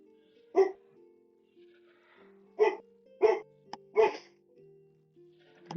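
Dogs barking nearby in a quiet room: four short sharp barks, one isolated and then three close together, over faint background hum.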